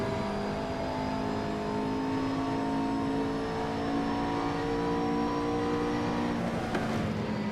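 A GT race car in Assetto Corsa, Blancpain GT Series, holds full throttle with a loud, steady engine drone whose harmonic whine climbs slowly and evenly, ending in a short sharp click near the end.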